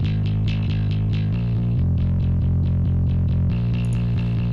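A heavily distorted bass plays a steady, driving riff of repeated low notes, gritty and thick, with no voices.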